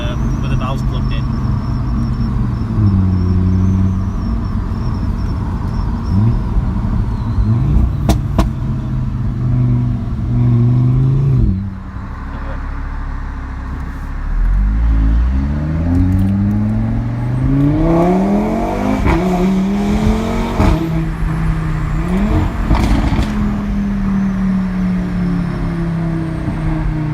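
A 2016 Audi RS3 with its exhaust valves plugged in accelerates in third gear from low revs, its loud, close engine note climbing through rising sweeps and dipping between pulls.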